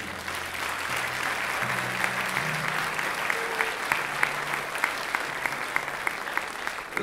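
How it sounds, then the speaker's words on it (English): A symphonic band spring concert audience applauds the helpers and volunteers with a steady, even wash of clapping, moderately loud, with a few sharper nearby claps and a faint murmur of voices underneath. "please give them a round of applause for helping out with this event"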